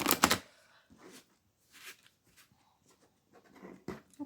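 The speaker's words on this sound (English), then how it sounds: "Need to shuffle the cards first because I didn't do it in the beginning." Tarot cards being shuffled by hand in a quiet room, giving a loud burst of riffling at the start and then a few softer, scattered shuffling rustles with pauses between them.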